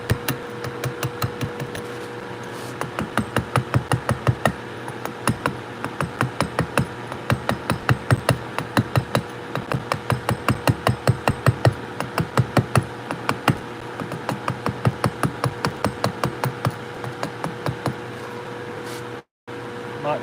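A hammer strikes a chisel into stone in steady, rapid blows for most of the stretch, loud and close, with a brief pause near the end and no talking.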